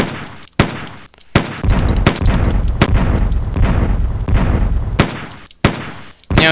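Rapid, loud bursts of gunfire and explosive booms in a shooter arcade video game, dense overlapping blasts separated by short gaps, close and harsh with no talk.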